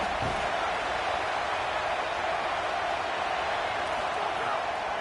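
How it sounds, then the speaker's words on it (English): A football stadium crowd at a Michigan versus Tennessee game roars in a dense, constant wash of cheering on a third down in the red zone, loud and unbroken, with a commentator talking over it. "Third down play in the red zone, and this crowd is at fever pitch."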